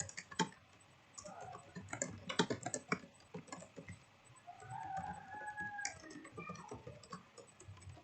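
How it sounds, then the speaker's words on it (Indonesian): Typing on a computer keyboard, a close run of quick clicky keystrokes in irregular bursts while a rooster crows faintly in the background. "Lalu ketikkan pertanyaan yang ingin ditanyakan."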